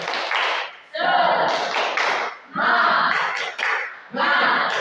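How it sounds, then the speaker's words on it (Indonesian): Classroom of students doing a rhythmic spirit clap, several loud bursts of group clapping and chanting voices in repeated phrases with brief gaps between. "Sekarang tepuk semangatnya dulu."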